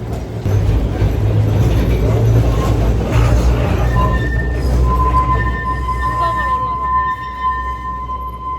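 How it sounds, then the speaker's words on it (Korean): A tram rumbles and groans climbing a steep hill through a narrow street in Lisbon, Portugal, with high metallic squeals from the wheels rising toward the end; voices murmur in the background. "언덕이 많아서 트램을 타고 가고 있습니다"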